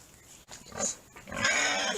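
Pigs on a farm grunt and squeal in short bursts, one sharper squeal standing out before a louder, rougher stretch of noisy snorting. Close and moderately loud, with no talking.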